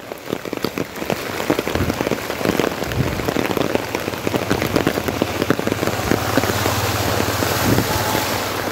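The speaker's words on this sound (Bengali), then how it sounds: "সারাদিন এখনও অনবরত বৃষ্টি হচ্ছে" Heavy, unbroken rain pours down on a flooded road, a dense, steady hiss of drops hitting water and hard surfaces, with faint wind and occasional passing vehicle sounds mixed in.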